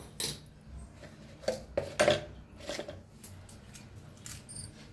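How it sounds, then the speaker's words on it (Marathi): A metal pan clatters as it is set down on a home stove, followed by a few quiet scrapes and clinks of kitchen utensils while oil goes in for dosa, each sound brief, close and fairly soft. "आता ठेवलेला आहे पॅन, त्याच्यात तेल ओतून घेतलेलं आहे।"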